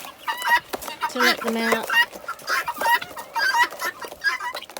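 Young brown guinea fowl keets chirp and cluck in quick bursts as they are let out to join two older birds, with a person speaking briefly over the calls.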